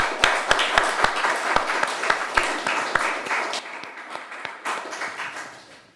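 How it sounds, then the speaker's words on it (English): A small audience at a lecture on artists, scientists and spiritualism before 1914 gives a round of applause, a modest burst of distinct claps that thins out and fades over several seconds. "Just give them a round of applause."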